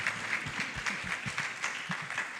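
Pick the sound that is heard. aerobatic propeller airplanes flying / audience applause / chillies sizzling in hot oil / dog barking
audience applause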